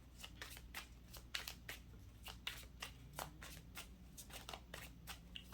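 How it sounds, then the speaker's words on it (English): Tarot cards being shuffled by hand, a steady run of crisp riffling flicks and soft slaps, close and fairly quiet over a low background hum. "I'm still shuffling."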